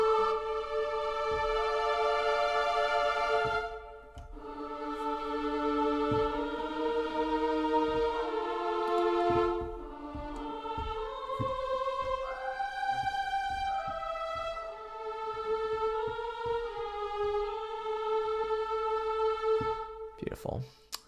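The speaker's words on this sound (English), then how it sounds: "Then we have the angelic strings, which are strings layered in with choirs" Angelic strings layered with choirs from the Afflatus strings library, slow sustained chords swelling and shifting through gentle harmonic changes, full and reverberant, with no talk over them.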